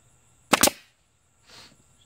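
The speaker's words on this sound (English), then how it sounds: "16 gauge trim nails, and we'll try to shoot it nice and straight so they don't blow out top or bottom." A pneumatic nail gun drives a 2-inch 16 gauge trim nail into a cockpit seat frame, giving one sharp, loud close shot followed a second later by a softer hiss of air, with no talk.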